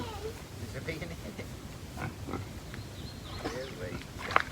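A pig grunts in a dirt wallow on a hot day, with faint intermittent grunts and snorts sitting under people talking nearby.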